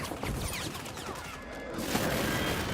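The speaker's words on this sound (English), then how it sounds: "airstrike near your location." Airstrike explosions in the Call of Duty Warzone video game, a dense continuous roar of blasts and booming crashes sustained throughout, loud and close with no talking over it.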